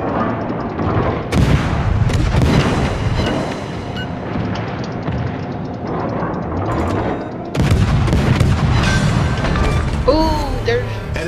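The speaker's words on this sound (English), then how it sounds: "All guns on him. Fire!" Warship guns firing in a naval battle video game: loud booming cannon blasts and rumbling salvos alongside mechanical clatter, with heavy continuous gunfire through most of the stretch.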